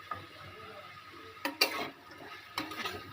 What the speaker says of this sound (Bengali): এটা আমি হালকা লবণ দিয়ে নেড়ে নিচ্ছি